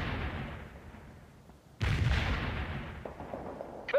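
Rocket launcher fire in the video game World in Conflict, a sharp heavy launch blast hitting mid-clip over a rumbling battlefield, followed by sustained roaring noise and a few distant pops.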